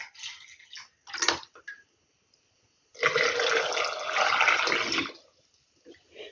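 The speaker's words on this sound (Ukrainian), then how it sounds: "От і останню баночку заляла водою." Tap water is poured into a glass jar while canning cucumbers, with a sustained splashing gush in the middle, close up, framed by shorter clinks and trickles before and after.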